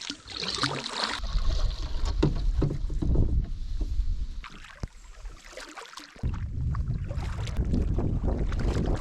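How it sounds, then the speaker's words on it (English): A canoe is paddled across a lake in Algonquin Park, with water swishing and sloshing against the hull alongside gusty wind noise on the microphone, steady and close throughout, with no voices. "all we got left to do is a lot of paddling to find our campsite on North T Lake"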